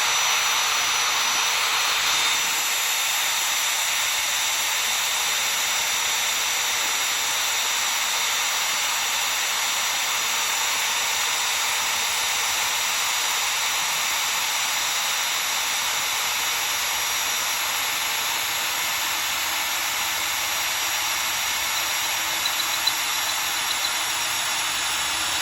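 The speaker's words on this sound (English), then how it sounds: "Got our 1/2-inch drill bit on our drill." A steady, high-pitched whine of a power drill with a half-inch bit runs continuously without pause, fairly loud and close, with no voices.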